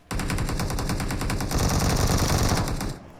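Rapid automatic gunfire in PUBG Mobile, a loud, unbroken burst of evenly spaced shots lasting about three seconds before it cuts off; nobody talks.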